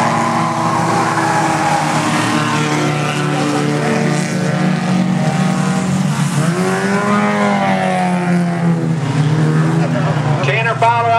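Race cars roar around the Burgstocks racetrack during a 2011 race, a continuous loud engine drone with rising and falling revs as cars pass, under a track announcer calling positions over the PA.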